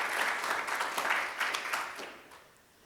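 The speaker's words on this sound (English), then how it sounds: "I'll give you a round of applause." An audience at a business meeting claps in a steady round of applause that fades out toward the end, heard from a moderate distance.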